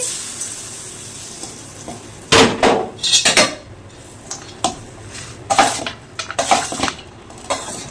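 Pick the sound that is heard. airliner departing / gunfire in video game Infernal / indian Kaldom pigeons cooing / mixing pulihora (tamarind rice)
mixing pulihora (tamarind rice)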